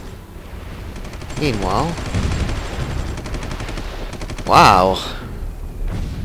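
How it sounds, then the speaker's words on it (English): Rapid artillery fire in the Supreme Ruler 2020 strategy game rattles as a fast, steady string of crisp clicks over a few seconds, with a voice talking over it. "That's a lot of artillery."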